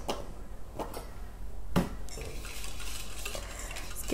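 A utensil stirs a liquid cleanser mixture in a container, with soft repeated scraping and a couple of sharper clinks against the vessel over a low background hum.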